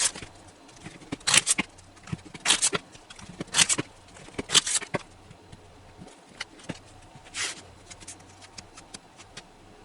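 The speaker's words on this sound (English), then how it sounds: "the cards have been shuffled, cut, and dealt" Oracle cards being shuffled by hand: several short crisp riffling bursts in an irregular rhythm, close and fairly quiet, separated by soft handling noise and brief pauses, with no talking.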